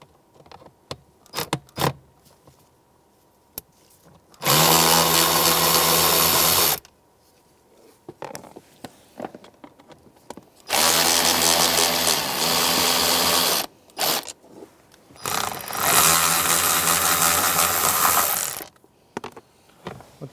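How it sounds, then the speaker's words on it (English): Power driver whirring out the T25 screws that hold the blower motor in a Honda Element, three loud bursts of a few seconds each, close by, separated by quieter clicks and handling sounds. "there are going to be 3 T25 screws holding your blower motor in place. We're going to have to take those out now."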